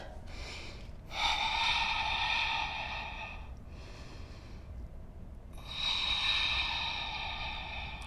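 Slow, deep breathing during a beginner yoga warm-up flow, with two long, airy inhale-exhale cycles that are close and clear in an otherwise quiet space.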